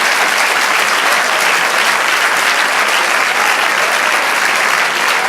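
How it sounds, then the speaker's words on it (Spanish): A church congregation breaks into dense, sustained applause during a worship service, a loud, steady wash of many hands clapping together for the whole stretch with no speech over it. "Dale un aplauso al Señor."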